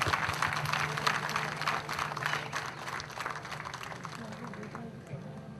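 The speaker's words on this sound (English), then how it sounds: "A big round of applause, please." Applause from a conference audience at an academic event, a dense clapping wash that is loudest at the start and gradually thins and fades, with a faint voice underneath.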